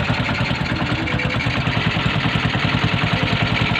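A Honda Astrea motorcycle engine mounted in a homemade car idles close by with a rapid, even, throbbing putter that holds steady throughout, with no talking.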